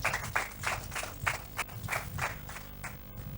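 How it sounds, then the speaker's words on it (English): An audience claps after a presentation at an oratory competition: a dense, steady round of applause with a quick, uneven rhythm, moderately loud and filling the space, with no voices over it. "A round of applause again"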